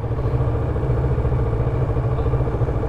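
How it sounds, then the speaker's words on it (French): A motorcycle engine idles steadily with a low, even rumble and slight clatter, close by and unchanging throughout. "c'est le temps que les motos elles chauffent."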